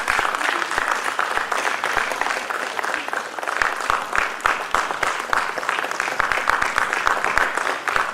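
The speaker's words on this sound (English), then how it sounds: "Please give him a big round of applause." A hall audience at a foundation day celebration applauds an award recipient with dense, continuous clapping at an even level for the whole stretch, with no talk over it.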